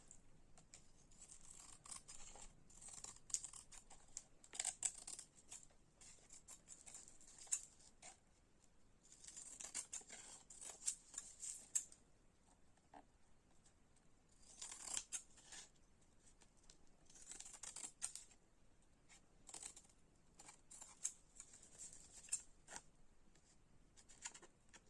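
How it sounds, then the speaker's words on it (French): Large scissors snipping through tulle in repeated bursts of crisp, papery cuts, close and quiet, with no talking. "je vais couper au bord le tulle. Je prends mon grand ciseau"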